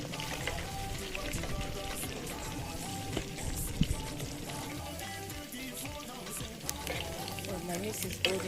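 Steady, dense sizzling of meat frying golden brown in hot oil, crackling and popping continuously at close range with no voices.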